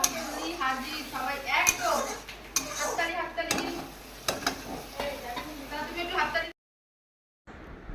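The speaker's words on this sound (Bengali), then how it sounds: "তো ফ্রেন্ড দেখো এখন আমি এখানে চিকেনটা রান্না করে নিচ্ছি আলু দিয়ে" Chicken and potatoes cook in a pan, with a steady sizzle under repeated spoon-against-pan stirring clatters; a voice talks over the cooking, and the sound cuts to silence near the end.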